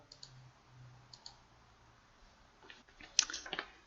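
Soft, scattered clicks of computer keyboard keys being tapped, a few isolated presses followed by a quicker burst, close and quiet.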